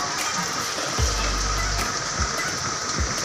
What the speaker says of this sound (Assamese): পুৰা বৰষুণ ঢালি আছে